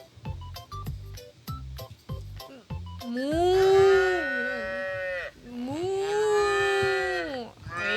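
A cow moos in a voice-controlled zoo-building video game, two long drawn-out moos after a few seconds of soft clicks and taps.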